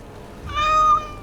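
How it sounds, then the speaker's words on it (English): A small cat in Dragon Age: Origins - Awakening, a tower mouser, gives one clear, drawn-out meow lasting about half a second over quiet background ambience. "look at the cute little kitty"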